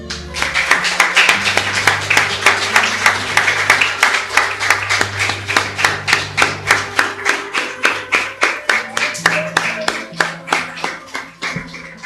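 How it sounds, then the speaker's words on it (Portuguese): A church congregation applauds together in steady rhythmic clapping during a worship service, loud and sustained throughout, with a faint held tone underneath. "Vamos aplaudir ao Senhor."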